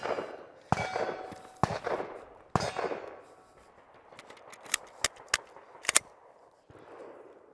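Pistol shots from a Sig Sauer M17 or Glock 19X at a range, several sharp loud reports spaced apart followed by a quicker cluster of cracks, with quieter handling noise between.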